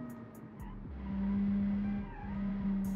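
A 1970 Italian sports car's engine as it drives, a moderately loud, steady engine note that swells and holds, briefly dips, then rises again.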